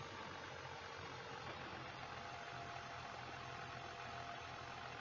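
A John Deere tractor in Farming Simulator 22 idles with a low, steady, quiet rumble that holds unchanged throughout.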